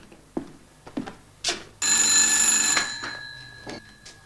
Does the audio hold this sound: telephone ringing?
yes